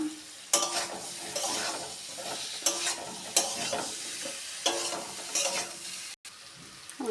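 A Bengali pumpkin and potato curry with fried bori is stir-fried in a pan. Steady sizzling is broken by repeated spatula scrapes and stirs at irregular intervals. Close and fairly quiet, with no talking.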